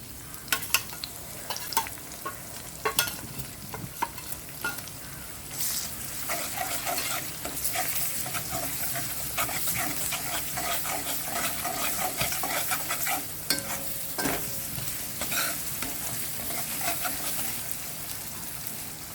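Mutton kheema fries with spices in a pan as it is stirred, with a steady sizzle under irregular scraping and clattering strokes of the utensil, close but fairly quiet, with no voices.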